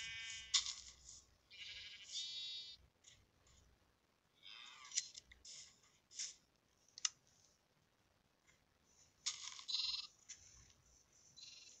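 Sheep in the video game Minecraft bleating in short repeated bursts, several calls close together at moderate loudness, with occasional clicks between them and no talking.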